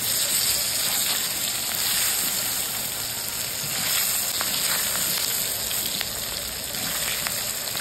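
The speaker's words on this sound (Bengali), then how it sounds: "কচু আর আলুটা ভাজা হয়ে গেছে" Chunks of taro and potato fry in a pan with salt, turmeric and slit green chillies, giving a steady, dense sizzle and crackle that runs loud and unbroken throughout, with no talking.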